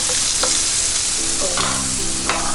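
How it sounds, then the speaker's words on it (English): Pancetta sizzling in a frying pan while being stirred, a steady close crackle and hiss broken by a few scraping stirs across the pan. "Give that a stir."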